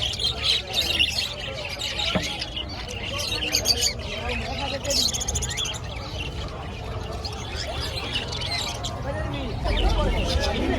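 Many caged pet birds at a busy open-air bird market chirp and squawk in a constant, overlapping chorus, while people talk and bargain close by throughout.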